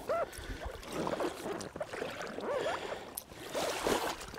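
Faint splashes and water swishing as a kayak is paddled through swamp water, soft and close, with irregular paddle strokes and a light trickling sound.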